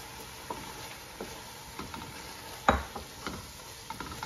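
Tomatoes go into sizzling masala in a frying pan for a South Indian vegetable biryani: a steady low sizzle with scattered stirring taps and one sharper knock midway.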